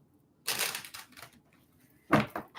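Tarot cards being shuffled during a live psychic reading, in two quick bursts of dry papery riffling separated by a brief pause, close and moderately loud.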